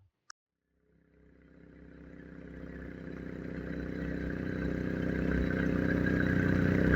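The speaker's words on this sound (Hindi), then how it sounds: "अब आपको उस बाइक का साउंड टेस्ट करवाते हैं" A 2019 Benelli 302R motorcycle fires up after a brief click, then idles with a steady, throbbing exhaust drone that slowly builds in loudness, close to the bike and with no talk over it.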